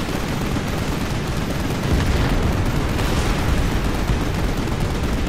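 Gunfire in Final Fantasy XV Episode Prompto rolls on without pause, a loud, dense crackle and roar of shots and blasts with no clear gaps.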